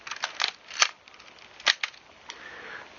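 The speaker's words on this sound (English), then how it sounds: "Once you activate the shutter will stay open as long as you like." Several sharp mechanical clicks from a Nikon F film camera shutter, loud and close, with quieter clicks and a faint whir between them, no talking.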